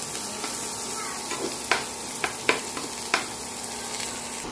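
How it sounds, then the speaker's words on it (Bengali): Garlic, onion and green chilli frying together in a pan: a steady sizzle with a few sharp clinks of a utensil stirring against the pan, no voices. "সেই সঙ্গে আমি কাঁচামরিচ এবং পেঁয়াজগুলোকেও ভেজে নিব"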